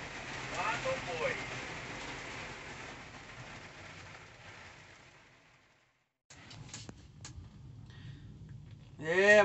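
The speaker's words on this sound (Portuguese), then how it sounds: "Deu uma pancada boa de chuva mesmo" Heavy rain pours down on a sugarcane field during the harvest, a dense steady hiss that slowly fades away over about six seconds, followed by quieter ambience and a brief voice near the end.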